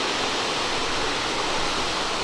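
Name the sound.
Secampo Waterfall in northern Bali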